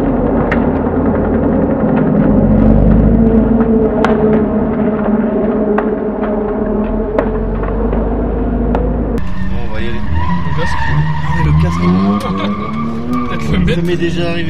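A BMW E46 330i Compact with the M54B30 engine drifts, its engine droning loudly while tyres skid and squeal almost continuously, with voices talking over it throughout.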